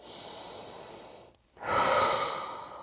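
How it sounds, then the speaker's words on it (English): Deep, slow breathing during a prenatal pelvic mobility exercise: a long, airy exhale, a brief pause, then a fuller, louder breath close to the mic, with no talking. "Inhale into that low back. Exhale, just relax."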